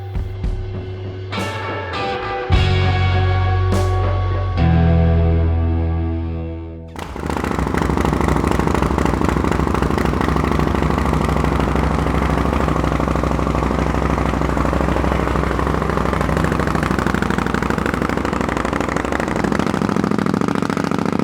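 An Indian Scout water-cooled V-twin in a custom chopper chassis, loud and close: a series of sharp tonal revs and blips, then a steady, throbbing, rumbling idle that holds for the rest of the clip.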